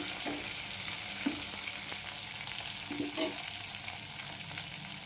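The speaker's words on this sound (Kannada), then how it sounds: "ಫ್ರೈ ಮಾಡಬೇಕು ಚೆನ್ನಾಗಿ." Curry leaves frying in hot oil for moong dal saaru give a steady, bright sizzling hiss, with a few soft stirring knocks and one brief louder crackle near the end.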